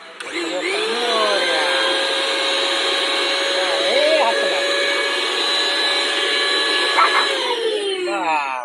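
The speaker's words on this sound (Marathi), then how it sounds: "कसा फिरतो मिक्सर" A mixer grinder whirs loudly and steadily for several seconds, its motor pitch wavering slightly, with brief voices faint underneath.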